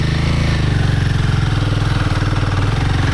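A Royal Enfield Himalayan 450 motorcycle engine thumps loudly and steadily up close on sandy Michigan singletrack, its rapid, pulsing beat holding at a constant pitch throughout.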